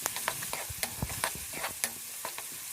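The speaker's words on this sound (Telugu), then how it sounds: "అల్లం అయితే మంచిగా వేయించుకోవాలి, పచ్చి వాసన అంతా కూడా పోయే వరకు వేయించుకున్న తర్వాతనైతే మనం పసుపు వేసుకుందాం" Ginger fries in oil for a fish curry, a soft steady sizzle with close, irregular scraping and tapping as it is stirred in the pan, with no talking.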